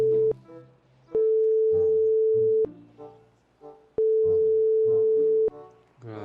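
A telephone ringback tone sounds while a call waits for an answer, steady beeps repeating in long, evenly spaced bursts with quiet gaps between.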